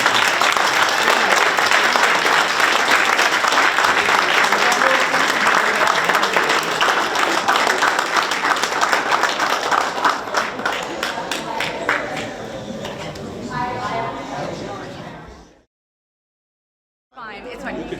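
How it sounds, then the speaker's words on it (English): Loud, sustained audience applause at a Veterans Day commemoration, a dense roar of clapping that thins out toward the end and drops into a brief silence before a little more noise returns. "We have one more round of applause"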